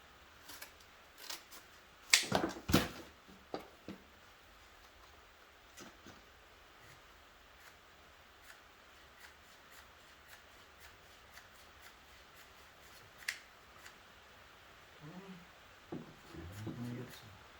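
Scissors cut through a cardboard mockup for wide body fenders, giving scattered crisp snips and rustles, with a dense burst of cutting early on and faint talk near the end.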